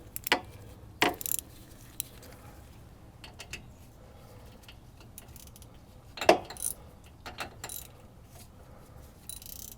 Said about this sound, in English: got my 3/8 hex drive socket. So we're ready to tighten this thing up and be done with it.